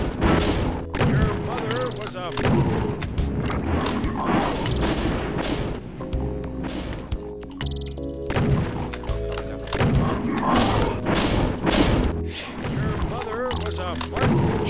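Rapid gunfire and heavy weapon thuds from a Doom video game mod map, loud and continuous over game music, with dense repeated bursts throughout.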